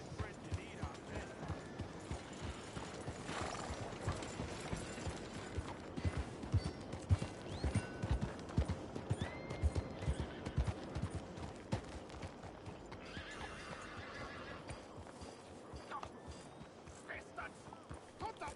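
A horse's hooves clip-clop at a steady trotting rhythm in Red Dead Redemption 2, close and continuous across the stretch, with occasional distant gunfire-like bursts mixed in.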